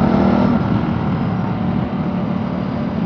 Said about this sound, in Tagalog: Sarap magmotor, nakakamiss tong Ducati natin